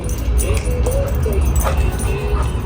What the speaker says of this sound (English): That's because Mama knows Wolfie always barks at, what's your name, Jen?